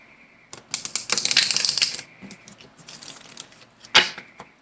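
A deck of tarot cards is shuffled up close, giving bursts of crisp riffling and flicking with short pauses between and a sharp final snap.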